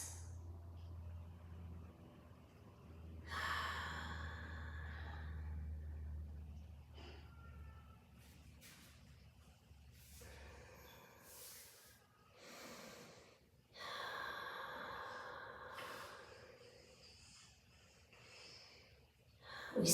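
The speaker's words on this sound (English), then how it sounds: "Nice big breaths." Slow, deep breathing during a relaxing low-back and waist stretch, with several soft, airy inhales and exhales spaced across a quiet room, close and fairly faint, with no talking.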